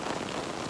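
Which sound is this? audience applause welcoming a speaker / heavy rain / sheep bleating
heavy rain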